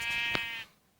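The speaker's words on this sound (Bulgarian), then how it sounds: "ето тази овца." A sheep gives one loud, close, wavering bleat that lasts just over half a second, then fades into quiet.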